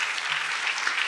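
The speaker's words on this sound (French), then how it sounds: "On vous applaudit." A short burst of dense, steady applause from an audience at a French-language science conference, filling the whole moment evenly without a break.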